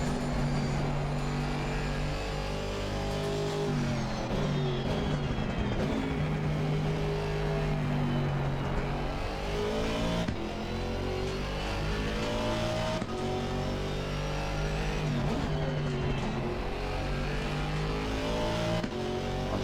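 An Aston Martin GT4 race car engine in Assetto Corsa Competizione at the Kyalami circuit drones loudly and continuously, revving up through the gears with shifts and sustained acceleration.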